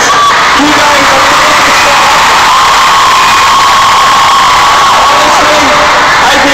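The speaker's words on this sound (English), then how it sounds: "I think you are one of the loudest crowds that we've ever had" A packed arena crowd at a concert in the Ziggo Dome, Amsterdam, screams and cheers loudly and continuously, a dense high-pitched roar with shrill squeals, with a voice partly audible beneath it.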